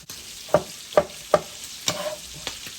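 Leftover onion pieces stirred into a skillet with frying bacon and cabbage, a few sharp spatula scrapes in an uneven rhythm over a faint sizzle, close up with no talking.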